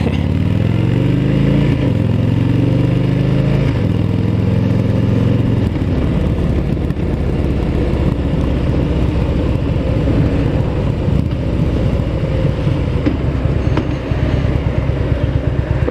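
A motorcycle engine idling and rumbling during slow U-turn practice on a blind corner, loud and close, with a low steady throb, wind buffeting and a shift in tone partway through as the clutch is worked.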